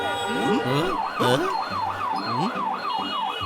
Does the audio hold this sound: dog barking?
no